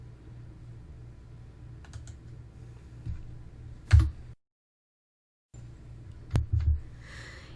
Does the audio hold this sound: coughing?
no